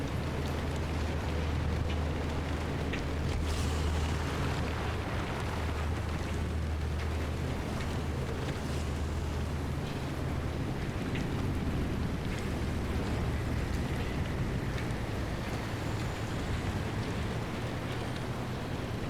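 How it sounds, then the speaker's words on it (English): Low, steady engine rumble with a faint sputter from a car in the survival driving game Pacific Drive, running continuously under broadband noise at night. "Pretty sure my engine just died as well. I think I hear it like rumbling, like sputtering or whatever."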